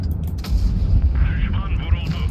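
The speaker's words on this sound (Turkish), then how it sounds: "Baktığım her tarafta bir patlama" Heavy cannon fire and explosions boom repeatedly in World of Tanks Blitz, with a B-C 25 t tank in battle; the deep, rumbling blasts overlap closely, and someone talks in between.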